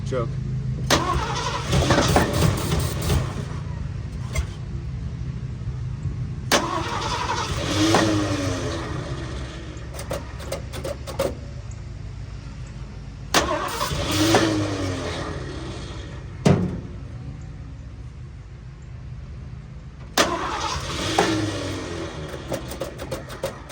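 A 1979 Ford F-150 Midas Edition with an electric choke cranks in four separate bursts, the starter churning for a few seconds each time without the engine catching. People talk nearby between attempts.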